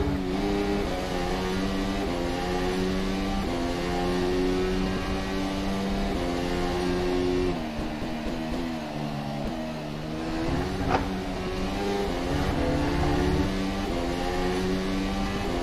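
ACR Zakspeed formula car engine in rFactor 2 at Montreal, a loud continuous high-revving drone that holds steady, dips briefly midway, then climbs again, with no talking.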